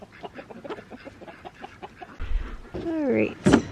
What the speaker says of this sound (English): You want some too, chickens?